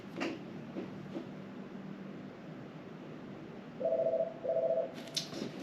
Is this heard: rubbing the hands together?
no